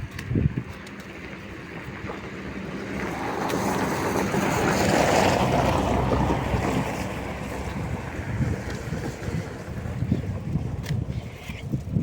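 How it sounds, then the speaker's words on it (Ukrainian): Strong wind blows outdoors on a rural homestead, rising into a loud, sustained rushing gust that buffets the microphone before easing back to a rough, steady blowing. "Ой, вітер такий піднявся."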